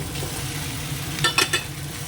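Potatoes fry and are stirred in a pan beside cooked rice, a constant soft sizzle punctuated by a few quick metallic clinks of a spoon against the pan.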